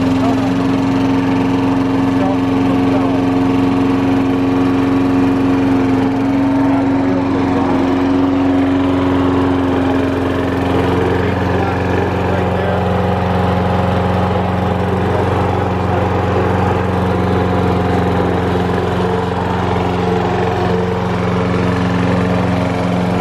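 A pull-started lawn mower engine runs steadily and loud throughout, holding a constant droning hum with a slight pitch shift partway, with no voices over it.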